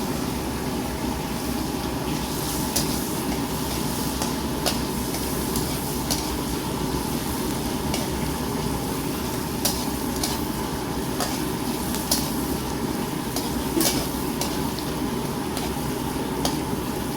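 Onions sauté in a hot pan while being stirred, giving a steady hiss of sizzling with scattered scrapes and clicks of the utensil against the pan, constant and moderately close with no voices.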